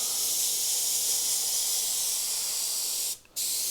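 A steady, airy hiss of an airbrush spraying paint onto a T-shirt runs continuously, cutting out for a split second near the end before resuming.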